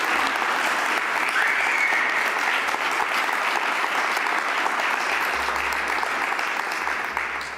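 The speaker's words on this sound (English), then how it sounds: "Give yourself some applause." Graduates at an executive management graduation ceremony burst into sustained applause, a dense, steady roar of clapping from a large crowd that holds for several seconds without a break.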